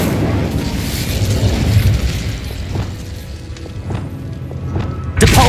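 Incendio fire spell cast in Hogwarts Legacy, a loud rushing burst of flame with rumbling thumps and scattered pops, ending in a sharp new blast, heard without speech.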